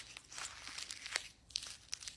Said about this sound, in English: you're going to crumple it up